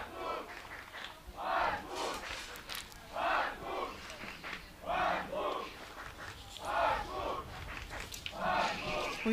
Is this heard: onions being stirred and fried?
no